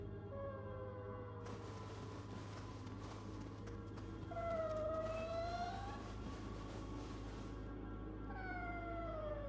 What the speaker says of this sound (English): Could you imagine having a kitty that made these noises while it slept?